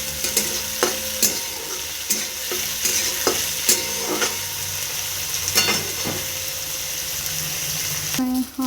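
Chickpea curry ingredients frying in a pan make a continuous sizzle, broken by repeated sharp clacks of a spatula stirring against the pan, with a brief watery splash near the end.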